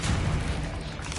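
A Bombarda spell explosion in Hogwarts Legacy, a loud dense booming blast with a rumbling low end that fills the moment and stays sustained, with a brief flare at the end.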